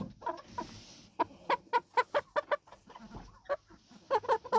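A chicken clucks close by in quick, sharp bursts, pausing briefly between runs of rapid clucks.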